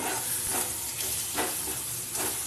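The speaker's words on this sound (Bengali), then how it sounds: "এই মশলার মধ্যে আমি কাঁকড়া ভাজাগুলো দিয়ে দেবো, দিয়ে আবারও নাড়তে থাকবো।" Fried baby crabs are stirred into spice paste in a hot pan, a steady close sizzle with rhythmic scraping strokes of the spoon roughly every half second.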